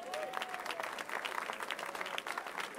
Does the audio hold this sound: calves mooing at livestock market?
no